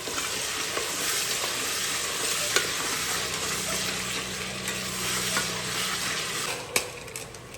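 Cauliflower masala rice fries in a pan with a constant close sizzle, broken by repeated scraping stirs of a spoon and a few sharp clinks, no talking.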